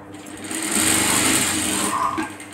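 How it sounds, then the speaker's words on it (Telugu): A sewing machine stitching a blouse front, running in one steady close whirring burst of rapid stitches that eases off near the end, with no talk. "డబల్ స్టిచ్ వేయాలి."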